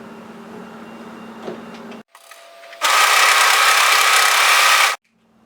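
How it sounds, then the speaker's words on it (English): A serger runs along the seam of a folded fabric cuff for a capelet hoodie, a loud, steady mechanical whir lasting about two seconds after a brief quieter hum, then stopping abruptly. "serge the seam here"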